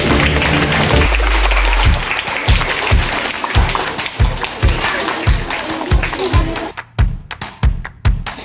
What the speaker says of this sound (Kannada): ದೇವರನ್ನ ಜೋರಾದ ಚಪ್ಪಾಳೆ.